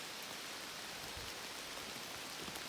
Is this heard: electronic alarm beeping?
no